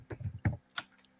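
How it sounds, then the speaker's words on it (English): Loud keyboard typing from a neighbour heard across a distance, a few sharp clustered keystroke bursts with short pauses between them, no voices. "somebody typing loud and shit"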